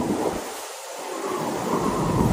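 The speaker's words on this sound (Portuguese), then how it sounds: "Observem as fortes rajadas de vento" Strong storm wind gusts roar across Kyushu in southern Japan, a dense continuous rushing that dips briefly and then swells again, loud and close to the microphone with no voices.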